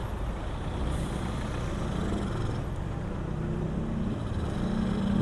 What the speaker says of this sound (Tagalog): Super duper traffic.